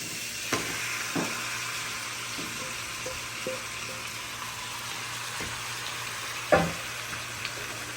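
Marinated mutton frying in a pan with browned onions, a steady low sizzle with a few sharp crackles and stirring clinks, close and moderately quiet with no voices.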